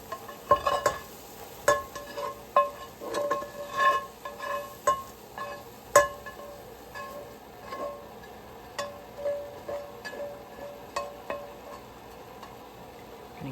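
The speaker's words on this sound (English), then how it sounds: "Give that a good stir, and we're just going to let this continue to simmer" A spoon stirs ground turkey into pasta sauce in a pan, giving irregular scraping clicks and knocks over a soft simmering hiss, close and moderately quiet with no talking.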